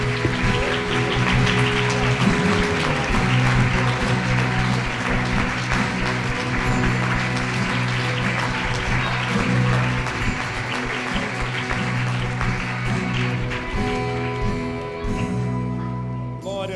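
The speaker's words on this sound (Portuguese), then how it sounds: "Você que concorda, aplauda o nome do Senhor, glorifica o nome de Jesus." Church congregation applauding during a worship service, a dense sustained clapping that holds evenly for a long stretch over a low musical hum and gradually thins toward the end.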